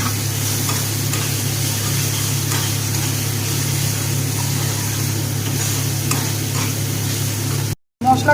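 Curry leaves sizzle in hot oil for a fish curry, giving a constant, dense frying hiss over a low steady hum. The sound cuts out briefly near the end.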